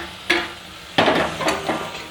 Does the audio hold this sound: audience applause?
no